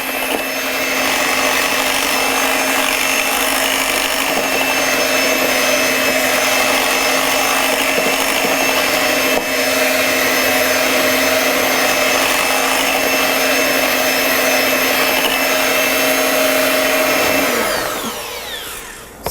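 An electric mixer blends mascarpone cheesecake batter with a steady, loud motor whine and whir that runs continuously for nearly twenty seconds before winding down at the end, with no talking.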